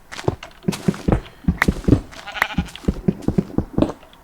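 Repeated sheep bleats from the video game Minecraft, a quick series of short, sharp calls in irregular rhythm, fairly loud and close with no talking.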